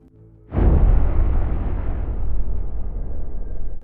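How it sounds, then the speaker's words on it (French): A huge explosion like the Beirut blast erupts after a moment of quiet, a sudden deep boom that swells into a long, loud rumbling roar and stays heavy for several seconds. "c'était l'une des plus grandes explosions non nucléaires de l'histoire de l'humanité, et elle a complètement déchiré Beyrouth."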